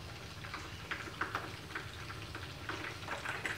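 Battered chicken wings deep-frying in hot oil, a steady dense crackling sizzle with scattered pops, moderately loud and continuous with no talk.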